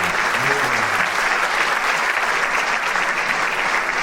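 An auditorium audience applauds after a lecture, sustained dense clapping filling the room at close range and loud, with a voice briefly heard at the start.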